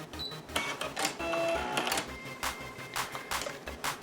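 An embroidery machine halts its stitching and trims the thread, giving a quick series of close mechanical whirs, clicks and thumps in a steady rhythm, with no talking.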